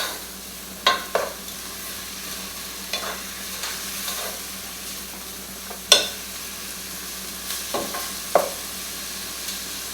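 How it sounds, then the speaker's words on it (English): Ginger stirring and frying in a pan over medium heat for chicken tikka masala, with a steady soft sizzle broken by about a dozen sharp scraping stir strokes at irregular intervals, close and clear with no talking. "And our ginger. Get that good and stir it up and cook for about 2 to 3 minutes."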